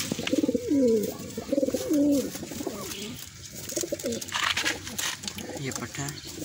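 Teddy cross Ferozpuri pigeons, a home-bred pair kept in Gujrat, Pakistan, cooing close by in repeated low throaty bursts while someone speaks in the background.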